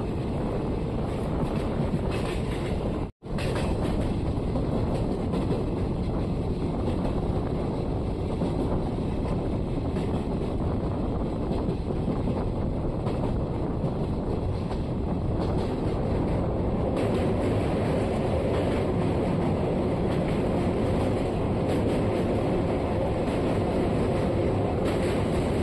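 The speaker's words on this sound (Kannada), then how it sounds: "ಬರ್ತಿದೆ ನೋಡಿ, ವ್ಯಾಪ್ 4 ತಿರುಪತಿಯಿಂದ ಚಾಮರಾಜನಗರಕ್ಕೆ ಹೋಗೋ ಎಕ್ಸ್ಪ್ರೆಸ್ಸು" An express train hauled by a WAP-4 electric locomotive, running from Tirupati to Chamarajanagar, pulls in as a steady, loud rumble with wind buffeting the microphone throughout, one brief dropout early on, and no talking.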